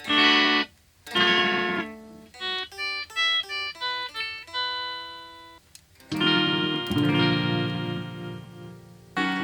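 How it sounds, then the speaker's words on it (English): Electric guitar through a cheap rack reverb unit's pitch-shifting effect: a quick rising and falling sequence of shimmering tones between strummed, reverberant chords. "'60s starts the pitch shifting."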